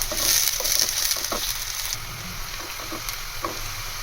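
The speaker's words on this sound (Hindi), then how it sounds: "प्याज को हल्का सा ब्राउन करेंगे, बिल्कुल गोल्डन शेड लाएंगे इसकी" Finely chopped onions fry in a pan toward a golden brown, giving a steady close sizzle with faint crackles and occasional soft stirring scrapes, no voices.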